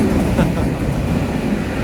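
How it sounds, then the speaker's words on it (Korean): An empty train rolls past at Biseo station on the Baekdudaegan canyon train line in Gyeongsangbuk-do, a loud, close, continuous rumble of wheels on rails throughout. "지금은 또 운 좋게 그냥 빈 열차만 지나가고 있네요"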